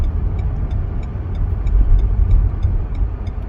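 A car merging onto the German Autobahn from an acceleration lane, its engine a steady low rumble with broad road and wind noise, fairly loud and continuous, with faint regular ticking above.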